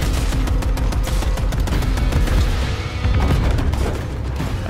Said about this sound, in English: Everything just fucking exploded.